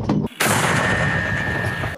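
A heavy artillery blast from Russian shelling in Ukraine bursts out sharply after a brief dip, then a long rumbling, hissing decay with a faint lingering high tone.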